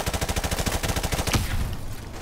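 Suppressive gunfire in Call of Duty Modern Warfare Remastered: rapid, rhythmic automatic bursts hammering loud and close for over a second, ending in a sharper blast before fading into a lingering rumble.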